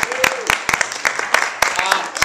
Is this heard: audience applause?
yes